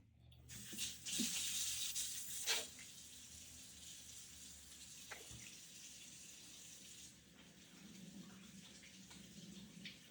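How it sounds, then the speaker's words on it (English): Tap water runs steadily into a kitchen sink during handwashing before cooking spaghetti, a soft continuous rush with a few louder splashes near the start. "The first thing we're gonna do is wash our hands first."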